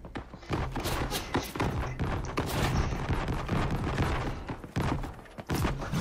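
A grenade blast in a video game is buried in a dense, loud barrage of rapid gunfire and heavy thumps that runs continuously, with short dips between bursts.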